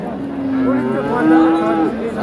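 A Friesian heifer calf about five or six months old lows at a village cattle market in one drawn-out, wavering moo, loud and close, with faint background murmur.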